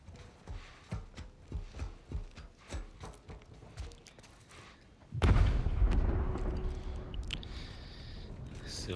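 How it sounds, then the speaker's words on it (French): Explosions in the video game The Last of Us Part I: a sudden loud, booming blast erupts midway, followed by sustained rumbling, after a stretch of rhythmic thuds and game sounds with voices. "C'est vrai que ça explose là-bas."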